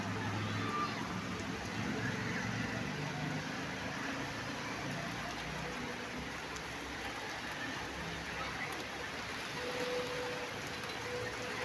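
Rain falls steadily outdoors, a moderate, constant patter and hiss with no breaks, holding at an even level from start to finish.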